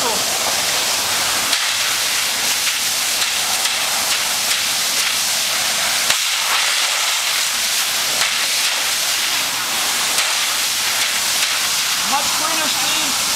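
Water from a fire hose nozzle with a ball valve sprays as a loud, continuous broadband hiss and rush, holding steady throughout with slight fluctuations, with no clear talking.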